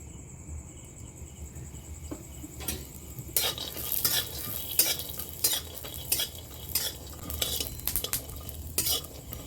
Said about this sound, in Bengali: চীনাবাদাম ভাজার জন্য আমি অল্প করে সরষের তেল দিয়ে দিচ্ছি